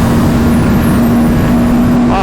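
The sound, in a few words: RS 457 motorcycle engine at high speed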